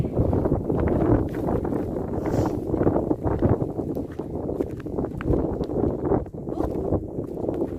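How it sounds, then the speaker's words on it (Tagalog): Strong wind on Po Toi Island buffets the microphone in a steady, rumbling roar that dominates the whole stretch, with a few faint rustles and knocks underneath. "Kaya lang yung hangin."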